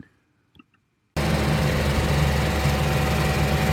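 An older John Deere 160 excavator's engine idles loudly and steadily with a low, rumbling drone, starting abruptly after a second of near silence broken by a few faint clicks.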